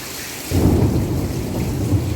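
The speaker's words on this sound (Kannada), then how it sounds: "ಸಿಡಿಲಂತೂ ಜೋರಾಗಿ ಬಡಿತಾ ಇದೆ ನೋಡಿ ಫ್ರೆಂಡ್ಸ್" A deep roll of thunder swells in suddenly and rumbles on over steady rainfall in Bengaluru.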